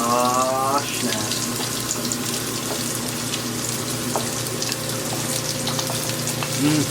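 Green peppers and onions frying in a pan on medium-high heat, giving a continuous bright sizzle that stays steady throughout with faint clinks, close and fairly loud.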